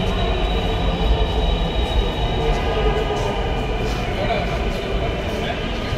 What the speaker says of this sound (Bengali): মেট্রো চলে আসছে, মেট্রোতে এখন উঠবো।